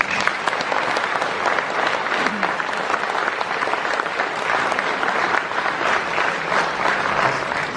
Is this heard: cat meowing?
no